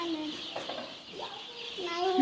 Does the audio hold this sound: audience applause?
no